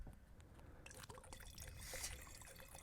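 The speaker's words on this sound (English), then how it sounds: "that's Grandpa pouring himself another glass" Wine poured from a bottle into a glass trickles and splashes softly at close range, a quiet liquid stream building in the middle with faint clinks.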